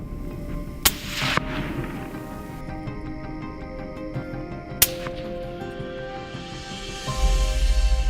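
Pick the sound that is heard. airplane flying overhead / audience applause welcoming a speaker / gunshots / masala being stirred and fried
gunshots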